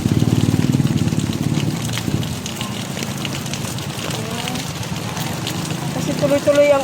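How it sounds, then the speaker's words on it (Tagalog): Strong floodwater current rushes and churns in continuous rain, a loud, steady roar with a low rumble at first, and a voice speaking over it. "Malakas na ang current ng tubig."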